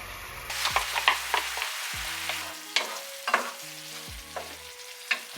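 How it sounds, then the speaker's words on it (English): Lobster tails sizzle in a pot on a home stove, with repeated stirring scrapes and clinks over steady frying hiss while quiet music plays. "I'm cooking my lobster tails here, before I make the sauce"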